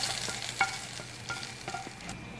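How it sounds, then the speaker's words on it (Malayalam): A hot spice tempering hits mixed vegetable kurma with a close, continuous sizzle, punctuated by several spoon or ladle clinks and stirring scrapes, with no voices. "ഇനി നമുക്ക് ഈ താളിച്ചത് ഈ കുറുമയുടെ മുകളിലോട്ട് ഒഴിച്ചു"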